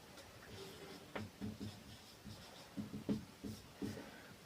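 Chalk or pen strokes on a board during a Class 10 maths lesson on triangles, a series of short scratchy taps and scrapes in irregular bursts, fairly quiet in a room with no talking.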